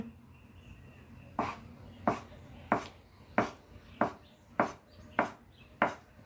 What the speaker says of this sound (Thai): หั่นรึบรึบรึบรึบเลย